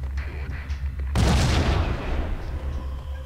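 A grenade goes off in the Max Payne video game: a single sudden loud blast with a rough, decaying rumble, set against low background game ambience.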